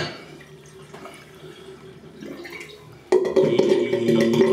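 Water drips and trickles at a sink while a shave is rinsed off with hot and cold water, quiet and splashy at first, then suddenly louder and fuller as the flow picks up partway through.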